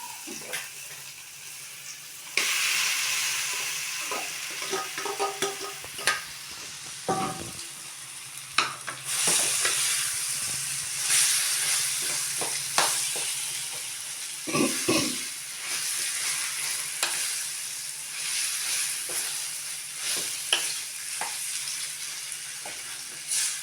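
Dried red chillies frying in hot oil for a raw banana dish, a loud continuous hiss and crackle of sizzling with occasional stirring scrapes and clatter, close and steady throughout.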